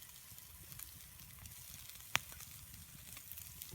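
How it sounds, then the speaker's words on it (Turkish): Meat and sausage sizzle over campfire embers outdoors at night, a faint steady crackling hiss with one sharp pop from the fire, no voices. "Sucuktan sonra etlerimizi pişiriyoruz. Zaten sesi geliyor."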